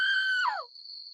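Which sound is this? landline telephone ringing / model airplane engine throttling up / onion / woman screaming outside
woman screaming outside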